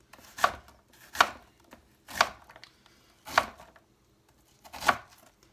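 A knife chops through an onion on a cutting board: five firm, evenly spaced chops, close and crisp, with nothing else heard.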